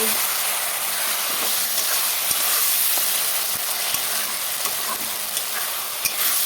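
Tomato chutney with turmeric simmers and thickens in a pan, giving a steady broad sizzling hiss that runs continuously throughout, with a few faint scraping clicks of stirring and no voices.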